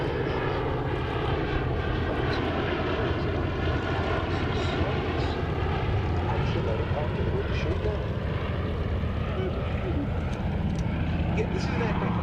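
A Royal Navy torpedo aeroplane, an outdated, slow type cruising at about 90 knots, flies over the Duxford Battle of Britain airshow, its propeller engine droning loudly and steadily throughout.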